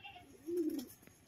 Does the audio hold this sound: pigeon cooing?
yes